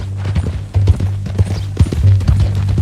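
Horse hooves from Red Dead Redemption 2, a brisk clip-clop of shod hooves in a quick, uneven rhythm, close and fairly loud, with no talking over it.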